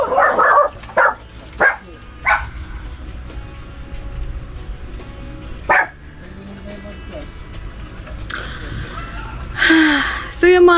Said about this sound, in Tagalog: ang dami na nagtatahulan na yung mga aso natin dito.